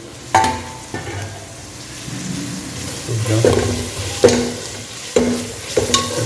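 Cinnamon, cloves, cardamom, fennel, cumin and green chillies fry in a pan for mutton spleen gravy, crackling and sizzling up close with repeated clanks and scrapes of a stirring spoon against the metal.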